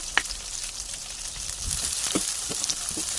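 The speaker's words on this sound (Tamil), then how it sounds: "நல்லா வெங்காயம் வதங்குற அளவுக்கு அதை வதக்கி விட்டுக்கலாம்" Two large onions sautéing in hot oil in a pan for an egg curry give off a steady, close sizzling hiss, broken by a few soft stirring scrapes and taps, with no voices.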